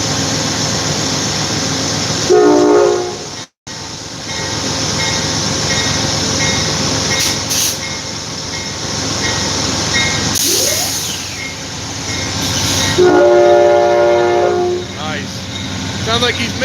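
A passing train sounds its horn in two separate blasts, and the horn seems to be missing a note. Heavy rail rumble and hiss fill the background, with a louder, longer horn call toward the end.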